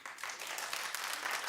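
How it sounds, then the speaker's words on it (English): Studio audience at a daytime talk show clapping, a brief soft burst of many hands, faint and continuous, with no talking. "Clap."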